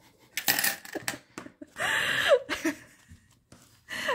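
Coins clink and drop in several separate bursts during a savings game of swapping small change, close and fairly loud, with breathy gasps and quiet gaps between the jingles.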